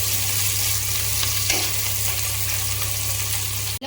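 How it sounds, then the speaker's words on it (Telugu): Thinly sliced onions frying in oil toward golden brown for a tadaka biryani, a loud, dense, steady sizzle close by with faint stirring scrapes, ending in a brief knock. "దీంట్లోనైతే సన్నగా కట్ చేసుకున్న ఆనియన్స్ అయితే వేసుకొని దీన్నైతే గోల్డిష్ బ్రౌన్ కలర్ వచ్చినంత వరకు బాగా ఫ్రై చేయాలి"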